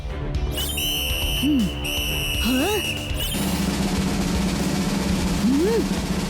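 A few short sliding whistles rise and fall, spaced apart over a steady mechanical drone and background noise.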